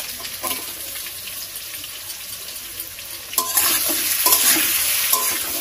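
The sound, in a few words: potatoes frying in oil in a pan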